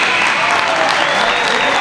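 A high school gym crowd applauds after the 145-pound final at the 2017 GMC wrestling championships, a loud, dense and continuous roar of clapping that fills the whole moment.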